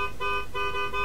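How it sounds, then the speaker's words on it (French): A car horn in Forza Horizon 3 sounds a steady, bright, buzzy tone with a brief break between honks, fairly loud over a low rumble of game ambience. "Pouvez-vous klaxonner, s'il vous plaît?"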